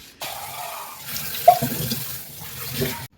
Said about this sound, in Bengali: আমি দেখো শিংটাও ভালো করে মেজে নিলাম আর সাথে কলটাও বেশ সুন্দর করে মেজে ধুয়ে একদম পরিষ্কার করে নিলাম